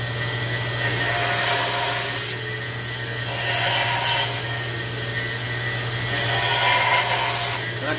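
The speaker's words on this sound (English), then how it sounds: "It was an old one. Open wheel bandsaw." An old open-wheel bandsaw with a steady motor hum cuts out a wooden snowman, its blade rasping through the wood in three long passes with brief lulls between, loud and close.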